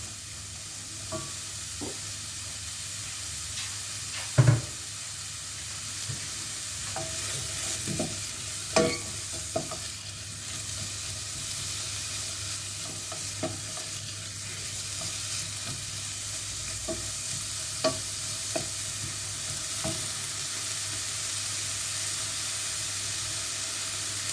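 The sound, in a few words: onions frying in oil, stirred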